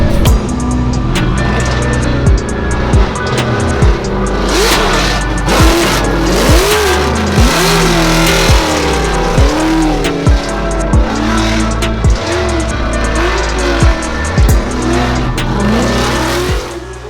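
Drifting S-chassis and other drift cars at a Formula Drift New Jersey event, engines revving hard with repeated tire squeal and skidding, loud and continuous throughout, no talk.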